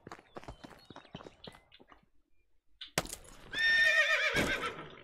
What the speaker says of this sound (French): là on va prendre le cheval